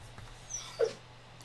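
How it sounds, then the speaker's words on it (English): A dog vocalizing indoors early in the morning, giving a couple of brief, soft yips or barks spaced apart against a quiet room hum. "Why are you barking?"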